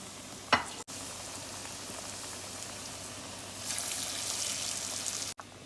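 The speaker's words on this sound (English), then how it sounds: "The provision is boiling away." A pot of split pea and provisions vegetable soup boils with a continuous bubbling sizzle, close by, swelling louder partway through, and interrupted by a brief knock early on.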